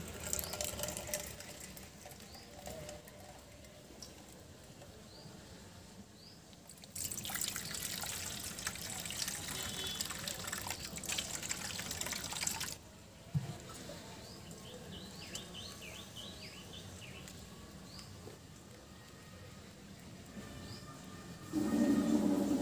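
Wet plant material being crushed and pounded with water, a steady scraping and rhythmic grinding with trickling liquid, louder bursts of grinding in the middle and at the end, close by with no talking.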